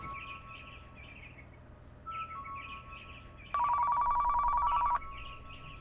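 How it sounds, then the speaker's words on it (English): A game phone and a real phone going off together: an electronic ringing pattern of repeated short warbles, joined midway by a louder, steadier trilling ring for about a second and a half before both stop, heard fairly quietly with no speech. "the game phone and my real phone was going off at the same time"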